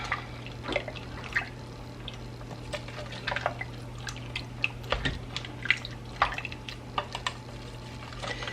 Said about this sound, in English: We're gonna just stir this up.